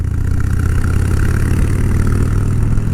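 A Harley-Davidson motorcycle engine runs steadily in fifth gear, a loud, continuous low rumble with a throbbing beat and wind-like roar, close and unbroken.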